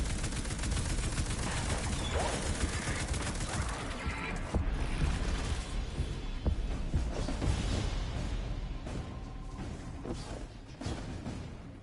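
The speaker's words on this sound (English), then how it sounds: "You basically run on these platforms while shooting the triangles." Dense, rapid gunfire rattles through Destiny 2 as a player shoots at triangle targets while running across platforms, with bursts of shots crowding close together over a busy background.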